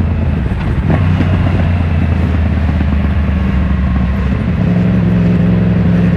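On a test ride, a Yamaha MT-10 motorcycle's engine hums in a steady, close drone, blended with buffeting wind noise and slight shifts in pitch as the ride goes on.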